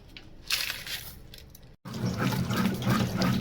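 Reserved cooking water is poured back into mashed dal in a pot, making close liquid splashing and sloshing, briefly cut off near the middle and then resuming more fully.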